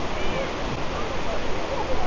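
Kuang Si waterfall pours down, a steady, close rush of falling water that fills the scene as an even, broad hiss without breaks.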